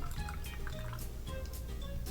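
A 2007 bottle of Matilda, a Brettanomyces-aged pale ale, poured into a glass: a close, steady glugging stream with dripping, bubbly liquid sounds throughout, unaccompanied by talk.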